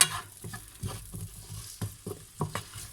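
Vegetables sautéing in a pan for fish spaghetti carbonara, with a steady soft sizzle broken by repeated stirring scrapes and knocks at an uneven rhythm, close and moderately loud, no talking.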